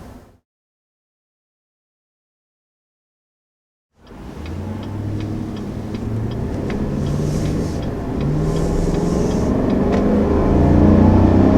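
A 2020 Chevy Silverado 1500 Trail Boss pickup with a 5.3 liter V8 pulls away on the road after a few seconds of silence, its engine drone and road rumble building steadily louder from inside the cab.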